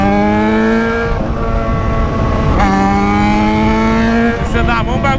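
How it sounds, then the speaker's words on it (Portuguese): Yamaha XJ6 motorcycle engine revving hard, a loud steady harmonic drone with rising and falling pitch shifts as gears change, close-up throughout with a brief lull near the middle. "a motoca tá berrando demais"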